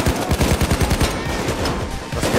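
Rapid automatic gunfire from the video game PayDay 2 rattles in a fast, even burst, then continues as scattered overlapping shots and clatter, loud and close with no talking.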